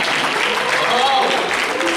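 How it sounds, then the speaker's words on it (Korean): A church youth group congregation applauds at a Sunday worship service, a steady wash of many hands clapping throughout, fairly loud and continuous, with some voices mixed in. "나올 때까지 박수 치네요."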